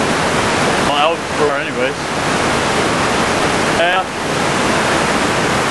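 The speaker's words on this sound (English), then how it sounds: "got this amazing view of the top of the waterfall" The top of a waterfall at Golden Ears Park roars as a dense, steady rush of falling water, loud and close, on a rainy day, with someone speaking briefly over it.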